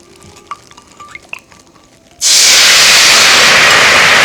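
Soy and garlic sauce pours into a hot pan of fried garlic for garlic soy chicken, bursting into a loud, steady sizzling hiss that swells suddenly after faint quiet clinks and continues alone.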